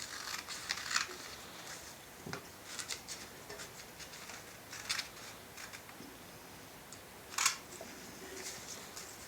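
Scissors snipping through material, a few short crisp cuts spaced apart at close range, quiet overall with faint room noise between the snips.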